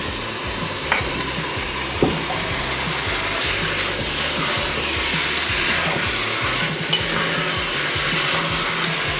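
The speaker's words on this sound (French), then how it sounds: "Je vais ajouter les pommes de terre, vous voyez, je les ai épluchées, je les ai coupées en petits cubes." Peeled potato cubes tipped into a pan of simmering Indian-style pork curry with vegetables, a steady loud sizzle and bubbling with a few clinks of a utensil against the pan, close by and without talk.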